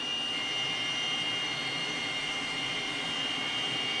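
A T-37 Tweet jet engine spools up during an engine start in a flight simulator game, a steady loud whine and roar with a high tonal hum, heard from the cockpit with the canopy open.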